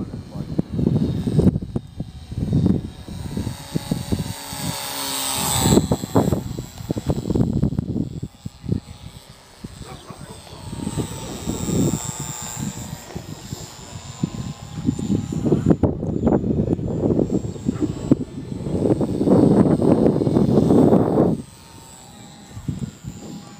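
A battery-powered radio-controlled model airplane flies with a thin, steady electric motor whine that rises and falls as it passes, while people talk loudly nearby through most of the clip.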